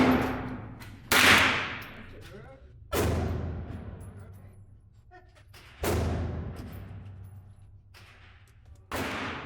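Four sharp gunshots from a Ruger 10/22 Takedown rifle fired at a target 15 yards away, spaced a couple of seconds apart, each cracking loudly and then decaying, with a voice faintly audible between shots.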